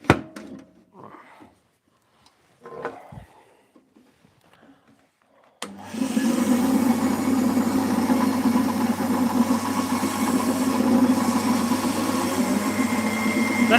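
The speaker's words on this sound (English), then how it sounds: "let's use this little bandsaw here" A small bandsaw cuts wood, starting with a sudden motor surge after a few quiet seconds with faint knocks, then a steady, close, continuous whine and rasp of the blade through the cut.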